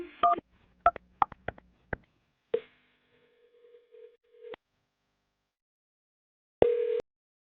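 Phone call being dialed, with a short run of sharp key beeps at first, then a steady ringback tone pulsing twice before the line picks up after a pause.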